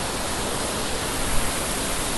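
Waterfall at Doi Inthanon National Park in Thailand: a steady, loud broadband rush of falling water, continuous and even throughout with no voices.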